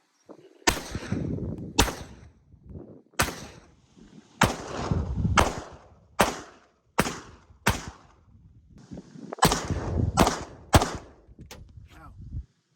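Handgun shots emptying a magazine: about a dozen sharp, loud reports spaced irregularly roughly a second apart, each with a brief ringing tail, outdoors.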